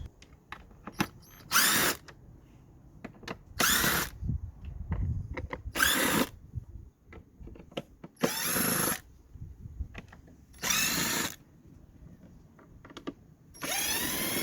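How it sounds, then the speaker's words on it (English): A power driver with a T25 bit undoes screws on a Mercedes-Benz C200 Kompressor air filter housing, with several short, loud whirring bursts separated by quieter clicks and handling noises. "So we are using a T25 bit to undo them."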